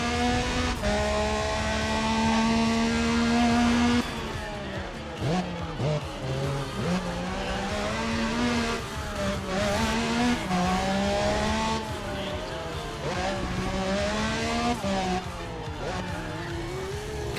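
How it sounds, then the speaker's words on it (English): A Porsche Cayman S engine in Need for Speed ProStreet revs hard through repeated rising gear pulls, with shifts and tire squeal under steady racing, loud and close throughout. "Oh, I like the sound of this car."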